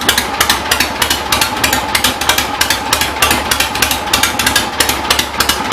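A 1975 Harley-Davidson Ironhead Sportster engine runs loud and close with a fast, even chugging beat of sharp repeated pulses, steady over the whole stretch.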